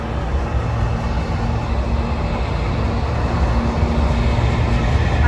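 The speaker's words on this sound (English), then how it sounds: "I love the noise of a train." Kansas City Southern freight train passing nearby, a steady broadband rumble and rolling clatter of a long train that holds at an even, moderately loud level throughout, with no talking.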